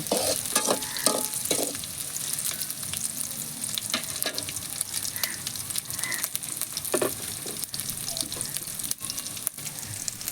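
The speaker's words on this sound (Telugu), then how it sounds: "తెల్లగడ్డలు పచ్చిమిరకాయల బాగా స్పీడ్గా కాలుతుందయ్యా" Garlic and green chillies fry in a pan, a continuous hiss and crackle of hot oil broken by occasional stirring scrapes, close and moderately loud throughout.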